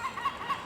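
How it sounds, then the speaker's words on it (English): Faint, distant seagull cries over a garden, several short high calls repeating in quick succession against a quiet background. "it's a seagull in the background."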